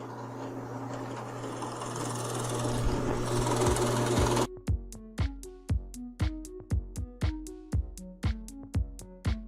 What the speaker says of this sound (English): with the holes drilled all through